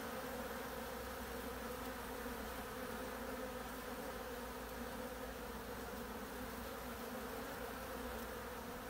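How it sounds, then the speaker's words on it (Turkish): Honey bees swarming around a hive during a young-bee orientation flight, a dense, steady buzzing drone filling the air throughout, with no voices. "Gördüğünüz gibi arı da coştu. Sanırım yavru uçuşuna denk geldik."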